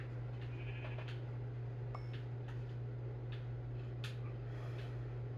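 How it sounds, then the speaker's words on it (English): A Minecraft sheep bleats a few times over a steady low background hum, fairly faint and with no talking. "Here, kill a sheep."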